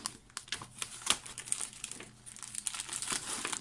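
Plastic bags crinkle and rustle up close as they are handled, a steady run of crisp crackles with sharp louder snaps scattered throughout, and no talk.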